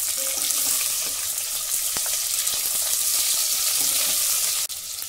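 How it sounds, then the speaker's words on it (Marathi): Cashews and vertically sliced onion sautéing in hot oil in a pan, a steady, loud broadband sizzle that runs unbroken with a few faint clinks of stirring. "थोडंसं परतवून घेऊ म्हणजे काजू छान तळले जातील"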